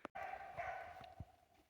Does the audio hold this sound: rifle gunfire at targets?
no